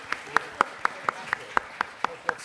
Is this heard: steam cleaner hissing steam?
no